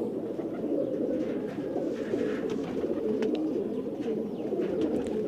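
Red Jogiya pigeons, an old rare breed, coo continuously in low throaty rolling murmurs, several birds overlapping close by, with faint chirps above and no talking.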